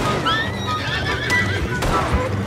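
A horse in the Red Dead Online video game lets out a shrill, wavering whinny, with hoof clops and other game sounds underneath.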